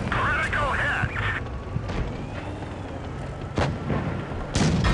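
A tank shell fired in World of Tanks, then a Jagdpanzer E100 round bouncing off an angled hull. Heavy booming blasts and metallic ringing sound through steady battle noise, with several loud impacts spread across the span.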